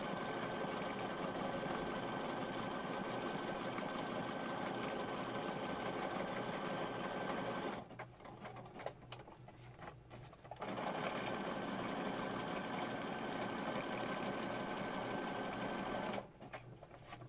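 A sewing machine stitches through a paper page, with a loud, steady, close mechanical whir that pauses briefly in the middle, then resumes and stops again near the end.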